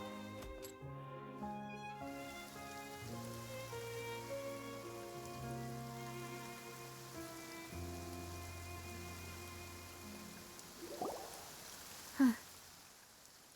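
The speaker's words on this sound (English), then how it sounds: "It's been raining non-stop for a few days now." Steady rain patter falls in a video game scene, a soft continuous hiss beneath a sustained musical soundtrack, with a brief louder knock near the end.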